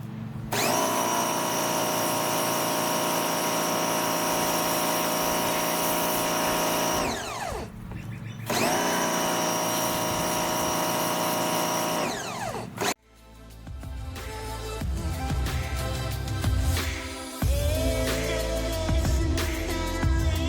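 A pressure washer cleans the frame of a 1995 Honda XL250 motorcycle with a loud, whining motor drone that stops briefly twice, then shifts into rougher, spattering spray noise.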